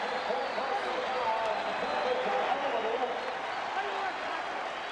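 Basketball arena crowd at a 1985 Celtics–Knicks game at Madison Square Garden, a steady roar of murmuring and scattered cheering reacting to a foul, loud and continuous with a slight dip near the end.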